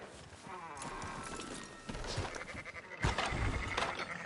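Sheep bleat amid a busy outdoor scene with hooves clattering and general commotion, fairly faint and mixed together.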